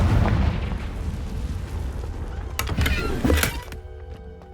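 A Confringo blasting spell in Hogwarts Legacy fires with a loud burst and deep booming explosion, followed by a crackling rumble and a short mechanical whir as it fades.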